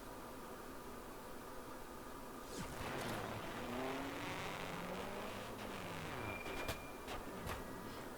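A player-built car in Trailmakers drives at high speed, a steady engine and road roar joined by rising and falling whines as it accelerates and turns, with brief sharp knocks near the end.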